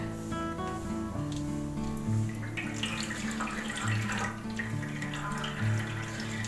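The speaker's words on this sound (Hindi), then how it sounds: "अब इसके अंदर डालेंगे हम तेल" Cooking oil pours steadily into a large heated cooking pot for chana pulao, a continuous liquid gushing and splashing close by with bubbling rising partway through.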